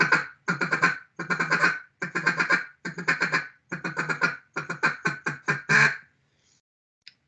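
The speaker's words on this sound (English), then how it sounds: "So that's their feeding call" Ducks swimming together on East Coast waters give their feeding call, a run of about nine rapid, close quacking bursts in steady rhythm before falling quiet.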